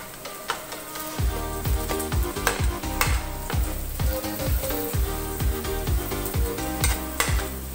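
Carrots and mixed vegetables frying in a pan for Chinese-style poha, a loud steady sizzle with a rapid run of rhythmic stirring knocks and scrapes.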